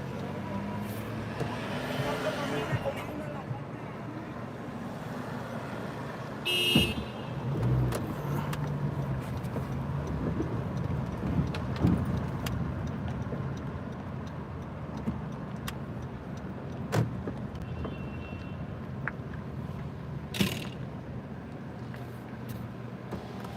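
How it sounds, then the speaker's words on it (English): Cars passing along a Harlem or South Bronx street at night, a steady low traffic rumble with a few louder swells and scattered clicks, heard from a stopped car, no talk. "We're gonna turn that way after these 2 car passes behind me"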